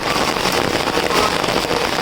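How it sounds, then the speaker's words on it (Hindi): Heavy rain pours onto a flooded road with rainwater running along it, making a loud, dense, continuous hiss of drops striking water and pavement, near and unbroken, with no voices. "ये तो चलो बहता पानी है बरसात का"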